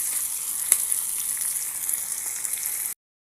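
Green chillies, onion and curry leaves sizzle lightly in hot oil in a pan, a steady crackling hiss with a few sharp pops, close and continuous before cutting off abruptly.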